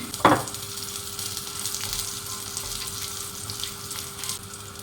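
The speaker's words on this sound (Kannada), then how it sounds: "ಜೊತೆಗೆ ಒಂದು 2 ಒಣಮೆಣಸು, ಸ್ವಲ್ಪ ಕುಟ್ಟಿದ ಬೆಳ್ಳುಳ್ಳಿ. ಸೊ ಇದನ್ನು ಫ್ರೈ ಮಾಡ್ಕೋತೀನಿ." Dried red chillies and crushed garlic frying in oil in a pan: a soft, steady sizzle throughout, with a brief clatter at the start and a faint hum underneath.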